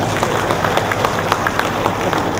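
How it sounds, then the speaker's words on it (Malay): Steady applause from an audience at a Malaysian Teachers' Day event, a dense continuous patter of many hands clapping throughout, moderately loud and without pause. "Tepuk tangan dulu"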